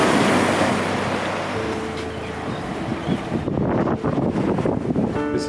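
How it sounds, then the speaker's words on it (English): Ocean surf breaks and washes onto the beach at Bald Head Island, North Carolina, a steady loud roar with wind buffeting the microphone throughout and no voices. "the ocean is right there"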